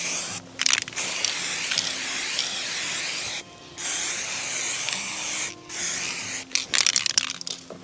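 Black Fire big game attractant sprayed onto a tree in the woods: several close, loud hissing aerosol bursts of varying length with short pauses between, alone without talk.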